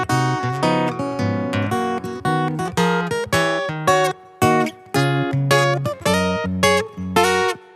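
Acoustic guitar recorded via direct input and shaped with two EQs in Ableton Live, played as loud, close chord strums in short repeated phrases with brief pauses between them.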